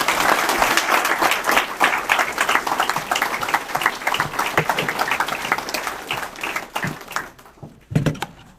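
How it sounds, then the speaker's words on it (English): A town hall meeting audience claps steadily for several seconds, the applause dense and sustained before thinning out into scattered claps near the end. "please join me for another round of applause for all our fabulous speakers"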